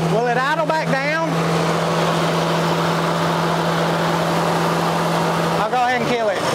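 A 1952 Dodge B3 truck engine idles with a steady, loud, close drone and constant low hum, while someone talks over it at the start and again near the end.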